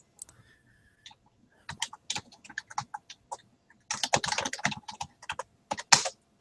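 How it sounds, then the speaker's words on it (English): Typing on a computer keyboard, close and quiet, with irregular runs of key clicks that build into a dense flurry before trailing off. "Sorry, I'm typing."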